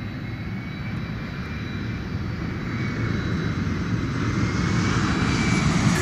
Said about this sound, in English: So we are hearing right now the sound of an airport.